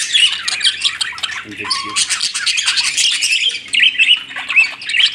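A flock of budgerigars squawks and chirps continuously, close and busy, with shrill overlapping calls and a brief word spoken beneath them.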